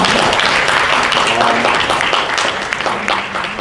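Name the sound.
applause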